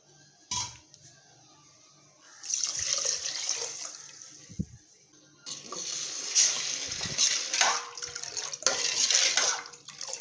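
Water pours into a pan of sugar to make gulab jamun syrup. The close, steady splashing pour comes in two main bursts, with a short clink of the pan between them.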